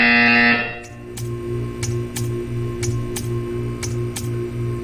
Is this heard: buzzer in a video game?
yes